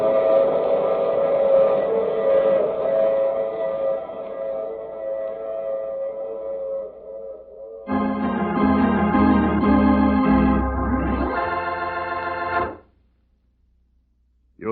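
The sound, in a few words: train sound effect in radio drama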